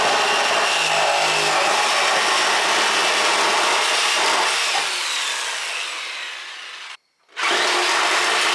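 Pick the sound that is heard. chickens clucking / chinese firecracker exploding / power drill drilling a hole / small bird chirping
power drill drilling a hole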